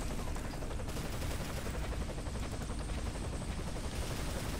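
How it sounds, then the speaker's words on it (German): An enemy helicopter in the video game Arctic Combat fires rockets amid constant battlefield noise, a dense, loud wash of rapid gunfire and rotor roar with no clear pauses. "Ist das ein gegnerischer Helikopter?"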